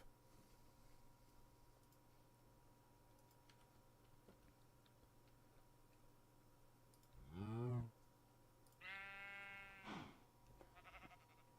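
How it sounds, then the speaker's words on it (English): Two sheep bleats from a Minecraft mod built in MCreator, each a wavering, nasal call, sound clearly one after another over a faint, steady background hum with light clicking. "And let's go with a sheep."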